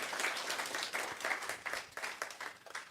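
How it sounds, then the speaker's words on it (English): Church congregation applauding during a Sunday morning service, a dense, steady wash of many hands clapping throughout, fairly close and full, with no talk over it. "Let's give them another round of applause."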